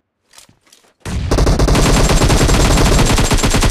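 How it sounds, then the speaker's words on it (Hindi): Sustained automatic gunfire in a battle royale shooter match, a couple of faint shots first, then a sudden loud, dense burst of rapid fire that continues steadily to the end. "हमें यहाँ से फायर का साउंड आता है"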